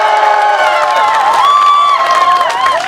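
A crowd at an outdoor political campaign rally for a gubernatorial candidate at Yeokgok Station, Bucheon, South Korea cheers loudly, with high shouts and whoops rising and falling over a continuous roar of voices.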